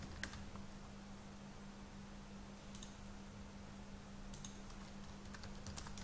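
Someone types on a computer keyboard in short, sparse bursts of faint clicks over a low steady hum, with no voices.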